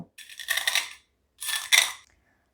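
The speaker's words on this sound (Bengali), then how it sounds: "এবার একটা স্টিলের বাটির সাহায্যে এই কর্নফ্লেক্সটাকে একটু চেপে চেপে গুঁড়ো করে নেব।" Cornflakes crushed by pressing with a steel bowl, two bursts of dry crackling crunch separated by a short pause, close and fairly quiet.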